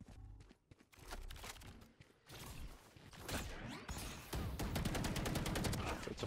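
Valorant gunfire: bursts of rapid automatic shots and single cracks build in intensity, with sustained fire growing dense and loud toward the end.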